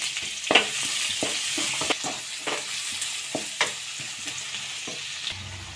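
Onion with chopped garlic frying in a pan for potato fried rice, a steady close sizzle broken by repeated scraping stirs, no voices.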